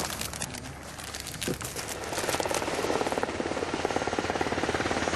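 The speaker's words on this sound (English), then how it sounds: "A medevac chopper is called in to airlift the wounded man to a military hospital in Kandahar." A medevac helicopter arrives to airlift a wounded soldier to a military hospital in Kandahar, Afghanistan. Loud, close rotor thumping and broadband engine roar start out rougher and swell into a dense, rapid pulsing chop.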